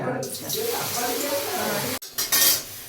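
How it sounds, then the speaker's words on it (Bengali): Water splashes onto fried cumin tempering in a hot pan, a steady sizzle and frying hiss with utensil clinks, then a sharp burst of spitting and hissing near the end, alongside speech. "ফোড়নটা ভাজা হয়ে গেছে, একটু জলে ছিটে মধ্যে দিয়ে দেবো, যাতে একটু পোড়া গন্ধ না আসে।"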